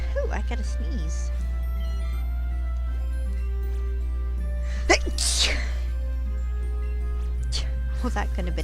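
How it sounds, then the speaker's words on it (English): A single sharp sneeze bursts out mid-clip, loud and close, set within a quiet room with a steady low hum and brief talk before and after. "Ooh, I gotta sneeze."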